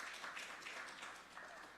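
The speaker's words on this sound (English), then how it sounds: "Now, the people to the left of me are clapping." A gala audience applauds, giving a fairly faint, continuous wash of many hands clapping with slight swells, heard from a distance in a large room.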